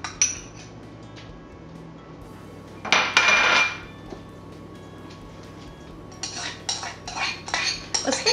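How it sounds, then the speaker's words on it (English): Beef, sun-dried tomatoes, shallots, garlic and basil tipped into a bowl in a home kitchen, giving a loud burst of clinking and scraping in the middle, then a run of light dish and utensil clinks near the end, with no talking. "Now I'm going to add the beef, the sun-dried tomatoes, the shallots, and half the garlic and half of the basil."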